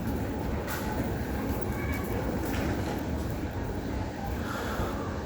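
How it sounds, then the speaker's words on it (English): Ambience of the main concourse at Sydney Central Station, a broad, continuous wash of crowd murmur, footsteps and distant train rumble echoing through a large hall. "now we're in the main concourse of Central Station"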